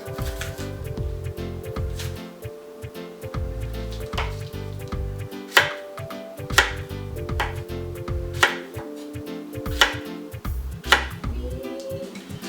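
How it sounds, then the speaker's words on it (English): A knife chops ripe plantains on a board for frying, giving repeated dull thuds and cuts at an uneven pace amid steady kitchen background noise. "In the meantime, we're chopping up the plantains, getting it ready to fry."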